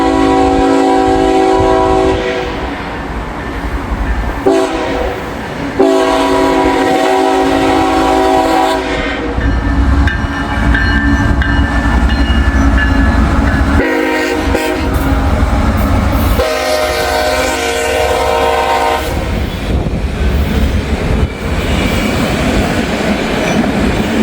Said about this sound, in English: we got a CSX train coming down the line